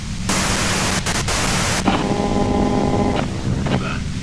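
Harsh radio white-noise static hisses loudly and steadily in Disco Elysium, broken by brief dropouts and crackles, with faint tonal hums and a voice speaking underneath.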